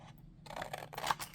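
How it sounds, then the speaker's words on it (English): Scissors trimming around a paper butterfly for a handmade card, giving a quiet run of close snipping and cutting sounds with no talk. "I am just going to trim it with the scissors."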